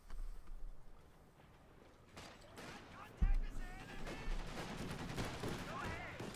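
Half-track machine-gun fire in Company of Heroes 2 opens with a sharp impact, then rattles on in bursts over battle noise while a voice talks over it.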